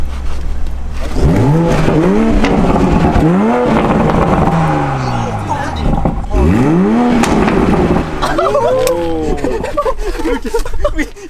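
A 2020 Toyota Supra in sport mode revs and accelerates hard through repeated gear-driven sweeps, loud and close from inside the cabin, with occupants talking and exclaiming over the engine.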